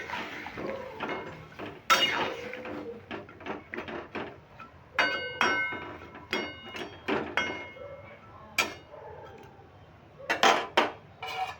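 Pumpkin pieces stirred in a pan of hot water with a spatula, giving a run of sharp clinks and scrapes of utensil against cookware, uneven and close, with brief pauses between strokes.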